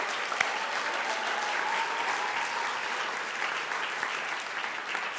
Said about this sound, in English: I'd just like to give a real quick round of applause to Paul for his service last year.